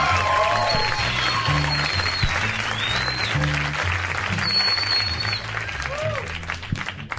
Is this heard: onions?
no